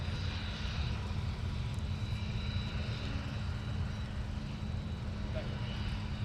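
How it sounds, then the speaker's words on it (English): A Sun Country Boeing 737 jet departs the airport, a faint, distant, steady engine rumble that holds throughout with no clear rise or fade. "Very sporty departure from our Sun Country 737, headed over to headed to Wausau, Wisconsin."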